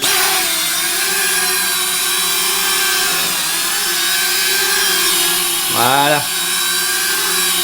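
Holystone HS430 drone motors spin up for takeoff with a loud, steady high-pitched whine that continues throughout, while a voice speaks briefly over it near the end.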